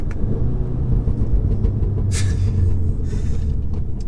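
A Stage 2 tuned 2016 VW Golf R with manual gearbox, in race mode with traction control off, gives a loud, steady low engine rumble heard close from inside the car, with no talking.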